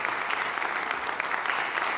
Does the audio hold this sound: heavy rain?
no